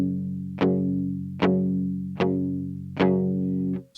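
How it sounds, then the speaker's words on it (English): Electric guitar through a dirty amp with delay and reverb, four loud strummed chords at steady intervals, each ringing out with a long sustained tail, no voices. "Just delay and reverb, but hitting eighth notes this time, so it sounds quite a bit bigger."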